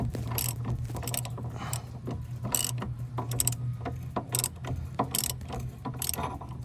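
Ratchet wrench clicking in repeated bursts while loosening the running-board step bolts on a GMC Sierra pickup, close and fairly loud with a low steady hum underneath.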